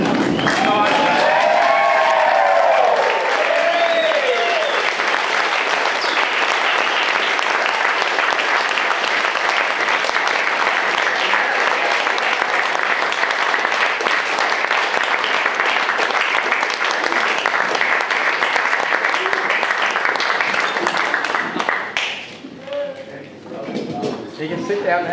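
Wedding reception guests give loud, sustained applause and scattered cheers as the newlyweds are introduced as husband and wife, the clapping filling the room for about twenty seconds before fading into talk.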